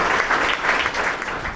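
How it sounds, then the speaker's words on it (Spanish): A crowd at a breast cancer awareness walk event in Sosúa gives a brief burst of even, close applause welcoming a speaker. "con un fuerte aplauso, vamos a recibir a esta gran guerrera, Laura Rodríguez"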